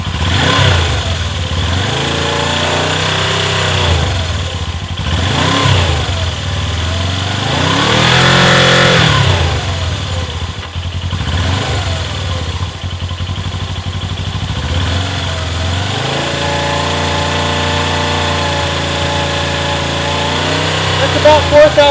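A Suzuki GS500 motorcycle engine with a replacement exhaust revs up to around 4,000 RPM, then settles to a steady idle near 1,400 RPM, loud and close throughout, with several rising and falling rev swells.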